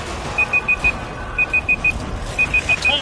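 Timer alarm in the Resident Evil 5 video game, sounding as three bursts of four sharp, evenly spaced high-pitched beeps, loud and close over a dull background rumble.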